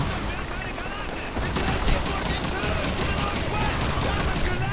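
Gunfire and bomb explosions in the video game Call of Duty 2, a dense, steady barrage of rapid shots and blasts that continues throughout, loud and close.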